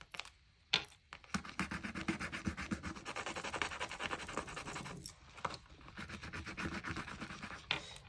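Coin or fingernail scraping the foil off a scratch-off lottery card, a close, steady rubbing scratch in bursts with brief pauses between strokes.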